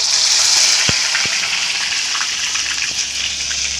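Onion paste hitting hot oil, a loud continuous sizzle and hiss with a few sharp pops near the start, steady and close throughout.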